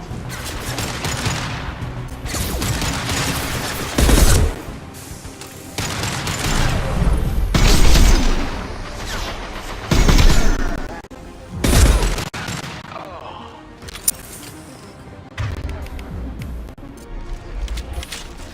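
Heavy gunfire in the sci-fi shooter game Mass Effect 2, with loud bursts of rapid shots and booming blasts coming in repeated volleys separated by brief lulls, some distant crashes in between.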